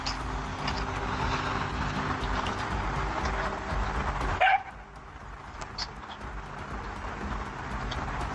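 A dog barks outdoors during a staged delivery, in short, faint yips under steady background noise, with no talk.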